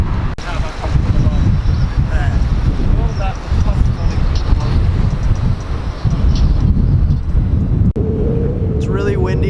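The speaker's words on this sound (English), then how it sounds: "It's really windy here" Strong wind buffets the microphone on St Kilda's jetty in Melbourne, a loud continuous rumbling roar across the whole stretch, with a voice faintly under it toward the end.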